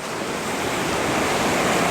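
Ocean surf rolls in along the shore below a headland, a continuous loud, rushing roar that swells slightly with no voices.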